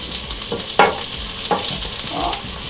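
Ingredients for a Thai stir-fry fry in a wok, giving a steady close sizzle with several sharp crackles and stirring scrapes, with no voice over it.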